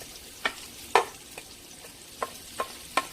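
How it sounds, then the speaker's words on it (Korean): Onions stir-fried in a pan over high heat give a soft, steady sizzle, broken by about six sharp spatula scrapes and taps at uneven intervals. Nobody speaks. "센 불에서 먼저 양파가 어느 정도 볶아지면"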